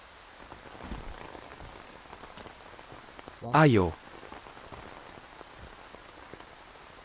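Heavy rain falling steadily, a constant soft patter and hiss heard throughout, while a person briefly calls out over it.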